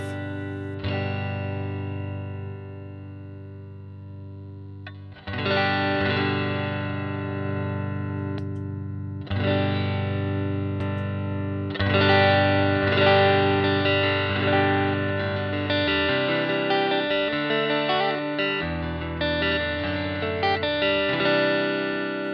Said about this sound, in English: it's that phase distortion where it's kind of cancelling, but it's not fully cancelling